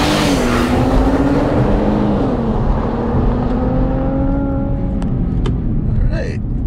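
A 2017 Infiniti Q60 Red Sport 400 launching hard from about 3,000 RPM in a 0-60 run, its loud engine note climbing steadily with a brief dip at a gear change, then continuing to rise.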